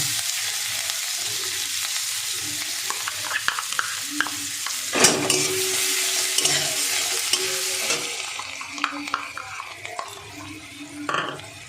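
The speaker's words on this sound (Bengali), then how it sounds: "এবার রসুন কুচিটা দিয়ে দেবো" Chopped garlic added to hot butter with cumin seeds, giving a steady, close, loud sizzle with spoon scrapes and stirring clinks throughout; no talk.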